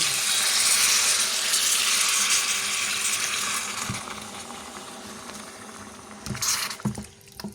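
Water pours into a pot for a tomato and chilli curry, a steady loud splashing that gradually settles and fades, ending with a few brief clinks near the end.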